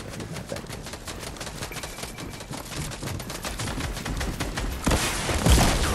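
AK rifle fire in the Fortnite video game, rapid bursts of shots rattling almost continuously at moderate loudness, ending in a louder impact near the finish with no talking.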